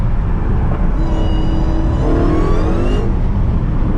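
A 730hp Dodge Charger SRT Hellcat driven hard in the rain, its engine revving up in a rising whine over a steady heavy road rumble heard from inside the car.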